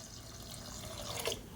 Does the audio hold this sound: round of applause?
no